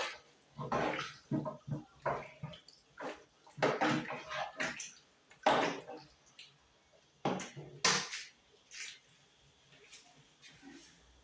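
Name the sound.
water being poured into a pot of meat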